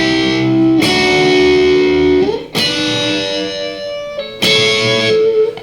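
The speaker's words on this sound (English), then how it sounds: "We can fake the harmony by just playing the chord tones." Distorted electric guitar picking out harmony chord tones for a song, three loud sustained chords each struck sharply and ringing out, played alone with no talking.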